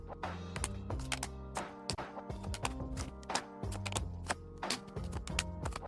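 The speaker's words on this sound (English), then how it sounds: "Then you take the deck and you deal 8 cards" Playing cards are dealt from a deck for a board game, making a quick run of soft flicking taps that sit quietly over a steady background tone.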